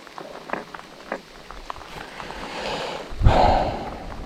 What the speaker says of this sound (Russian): А дождь все идет.